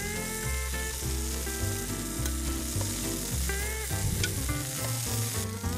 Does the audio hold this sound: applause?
no